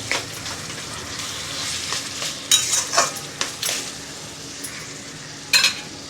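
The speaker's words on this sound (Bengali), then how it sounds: "এবার আমি কচুর শাকটা খুব ভালো করে নেড়ে দেব।" Taro leaves are stirred in a pan while their water cooks off, giving a continuous close sizzle punctuated by several louder spatula scrapes and clinks against the pan.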